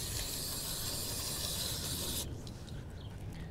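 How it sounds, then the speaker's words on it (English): Mass airflow sensor cleaner sprays onto a car's MAF sensor outdoors as a steady, close hiss lasting about two seconds, then cuts off, leaving faint background noise. "We're cleaning the MAF airflow sensor right now."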